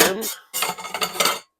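Metal camping cookware being handled close up, a set with a skillet, two pots and a small scoop, giving clattering clanks in two bursts separated by a brief pause.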